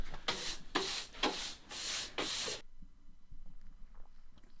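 Rhythmic abrasive strokes of sanding primer on a car body, about five back-and-forth passes close by, then the rasping stops and it goes quiet.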